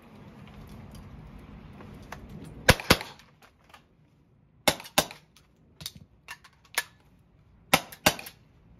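A Valken M17 magfed paintball gun and an Umarex T4E PPQ paintball pistol fire in sharp close pops, mostly quick double shots separated by short pauses, with faint handling noise between.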